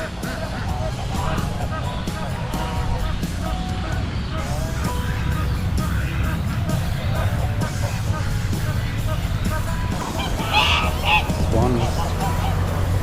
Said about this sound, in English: Lots and lots of birds and ducks and geese.